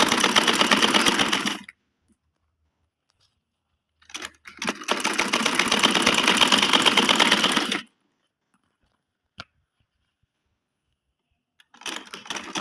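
A sewing machine stitches kurti fabric in two loud, steady runs of rapid stitching separated by quiet pauses, a brief click in the gap and a short start at the end.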